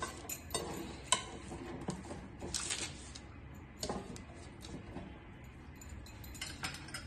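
Ghee is spread onto butter paper lining a baking tray for homemade cookies, heard as faint soft scraping and rubbing strokes with a few light clinks of utensil against metal, quiet and close with no talking.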